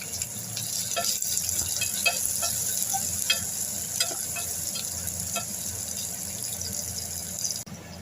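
Onion and garlic fry in hot oil as a tempering for Gujarati vegetable khichdi. The sizzle is steady and close, with frequent small rattles and taps of a spoon against the pot throughout, then a brief dip at the end.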